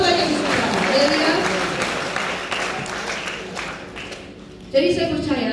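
A church congregation claps at an evangelistic revival meeting, broad applause that swells and then tapers off over about five seconds. A voice speaks over it, and a louder voice comes in near the end.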